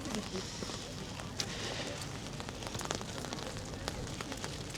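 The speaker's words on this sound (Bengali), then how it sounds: "পুরো কুয়াশায় ঢেকে গেছে আর বৃষ্টি পড়েই যাচ্ছে" Rain falls steadily at a fog-covered mountain pass, Bumla Pass in Arunachal, as a dense, continuous hiss with scattered pattering drops, close and even throughout.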